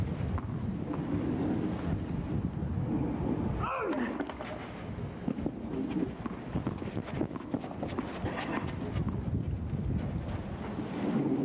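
Gusty wind buffets the microphone at an outdoor tennis match between Connors and Borg, a steady broadband rush with thumping gusts throughout, mixed with faint background crowd and court sounds.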